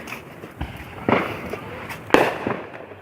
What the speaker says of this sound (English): is pretty cool with all these fireworks